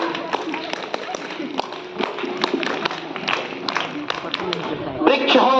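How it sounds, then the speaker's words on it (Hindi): A crowd claps at a farewell ceremony for a teacher, Ras Bihari Dubey. The applause is a steady, dense patter of many hands that swells near the end, mixed with voices and chatter. "ताली बजा।"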